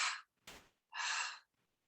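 Deep exhales during a yoga session, with two long, close breaths of air separated by a brief softer sound and a short pause.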